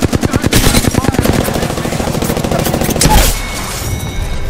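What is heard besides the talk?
gunfire from the video game Apex Legends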